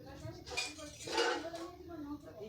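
A spoon or whisk stirs flour and milk cake batter in a bowl, with scraping and clinking of utensil against the bowl in a few close strokes, under a faint voice.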